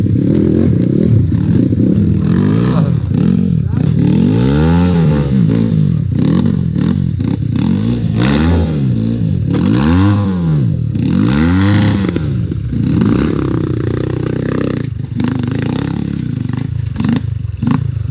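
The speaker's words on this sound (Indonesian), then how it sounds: "suara teriakan motor ada di sana" Motorcycle engines, Kawasaki KLX trail bikes, rev and rise and fall in repeated loud swells on a muddy off-road trail, several throttle bursts close by across the whole stretch with no talk.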